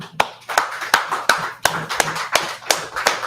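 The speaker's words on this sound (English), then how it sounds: "a round of applause" Applause from a small church congregation: about a dozen sharp, evenly spaced claps close by, steady and alone with no voices.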